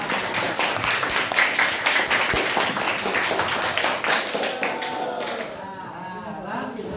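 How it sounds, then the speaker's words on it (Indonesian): Enthusiastic applause from a class of students after group presentations, dense and lively clapping at first, then thinning and fading out as a voice begins to speak toward the end. "Sekali lagi kita berikan tepuk tangan yang meriah."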